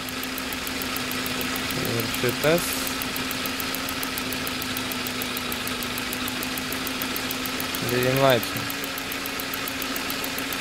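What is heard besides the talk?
SAAB car engine idling on LPG gas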